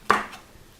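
One crisp chop of a chef's knife through a broccoli floret onto a cutting board, a quick close snap with a faint follow-up tap.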